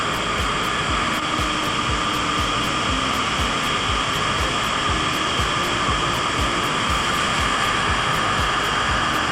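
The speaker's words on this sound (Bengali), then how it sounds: "একদম সামনে থেকে জল পুরো বয়ে যাচ্ছে" Continuous thundering roar of Niagara Falls heard from right in front, a dense, steady wash of crashing water that stays loud and unbroken throughout with no voices.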